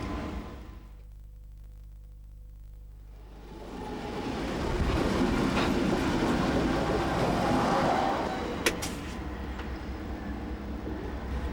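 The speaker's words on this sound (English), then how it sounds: "As the train departs," A National Rail locomotive-hauled train departs a rail terminal, starting with a low idling rumble before a broad, rolling roar swells in, holds, and eases off, with a sharp clank near the end.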